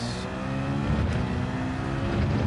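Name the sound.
Mitsubishi Evo X engine and turbo revving in a video game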